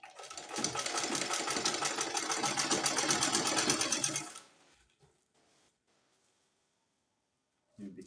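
A sewing machine stitches a sleeve fitted with an elastic band, running in one steady, close whir for about four seconds before stopping, then a brief mechanical sound near the end.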